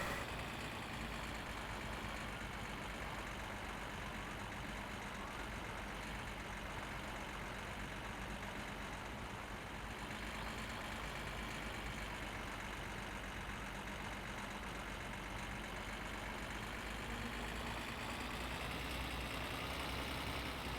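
A tractor engine in the video game My Summer Car idles continuously and evenly with a low, steady drone for about twenty seconds, no voices over it.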